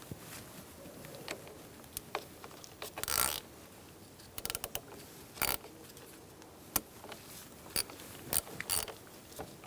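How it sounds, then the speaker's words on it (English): An 8mm socket ratchet tightens a car battery terminal on a 2000-2007 Ford Taurus 3.0L V6, giving quiet, close, intermittent clicks and short mechanical bursts between brief pauses. "Use an 8mm socket to tighten it down."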